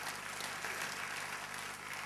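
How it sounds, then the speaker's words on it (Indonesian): A church congregation claps together in praise, a dense, even wash of applause heard at a distance with no talking. "tepuk tangan bagi Allah kita"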